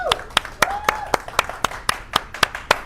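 Studio audience clapping at an Indonesian health talk show, a steady run of sharp, evenly spaced claps close by, a few hands in rhythm rather than a full roaring applause, with a brief voice at the start.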